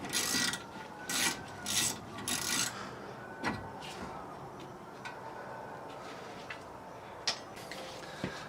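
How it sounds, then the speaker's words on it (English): A BMW E46 M3 brake slide bolt is wiped and scrubbed clean of old grease, with a few rough rubbing strokes at first, then quieter scattered scrapes and small clicks against a low background. "I'm just going to clean this off. You're going to want to clean off the old grease"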